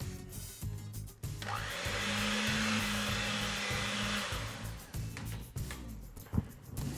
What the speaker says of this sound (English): I have an electric mixer here with a sort of like dough hook thing